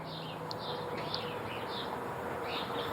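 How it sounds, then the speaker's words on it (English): Birds chirp faintly in the background outdoors on a morning, small repeated calls scattered across a steady hiss of open-air ambience, with no voices. "you may notice the birds chirping in the background if you don't have this video on mute"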